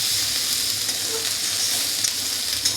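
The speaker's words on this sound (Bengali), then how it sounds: "আর একটু নাড়াচাড়া করে আমি ভাজা ভাজা করে নেব।" Drumstick pieces (sajne danta) stir-fried in a pan give off a steady, close sizzle with a few soft stirring scrapes and no talking.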